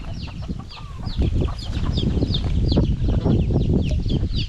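Chickens cluck steadily in a busy flock at a rural Thai garden home, with overlapping calls and occasional higher squawks, continuous and fairly loud close by.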